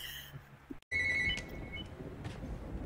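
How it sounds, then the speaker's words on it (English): A telephone rings in a horror movie scene from Scream VI, a bright electronic trill heard once after a short silence, loud and close. "Why are all the phone rings just fucking in my ear?"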